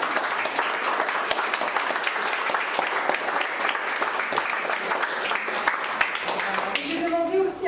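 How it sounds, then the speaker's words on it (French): An audience at a photo exhibition opening in a château applauds, a loud, dense, continuous roar of clapping that fills the space, with a voice starting to speak as it fades at the end. "vous pouvez les applaudir"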